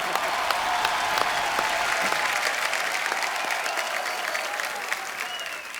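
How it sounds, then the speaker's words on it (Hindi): A large TV comedy show studio audience claps steadily and loudly, a dense continuous wash of applause that tapers slightly toward the end. "जोरदार तालियां"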